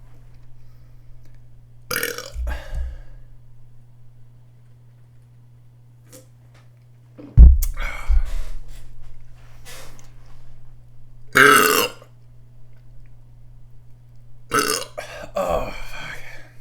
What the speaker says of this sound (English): there's nothing like a good burp